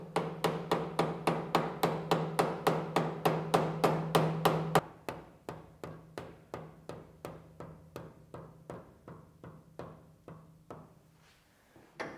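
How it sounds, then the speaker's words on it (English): Soft blow hammer tapping the corner of a VEVOR 5-inch milling vise to square it on a mill, a steady run of about twenty-five evenly spaced close blows, louder at first, then lighter and more spaced out. "I'm going to tap the corner of this with a soft blow hammer"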